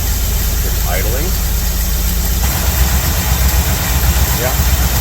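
A 1982 Chevy K10 truck engine, long left sitting, idles roughly with a misfire, a steady low rumble up close with uneven pulses, and a voice talks briefly over it.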